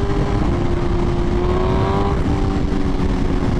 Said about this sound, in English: And my favorite part, the pops and crackles are still there.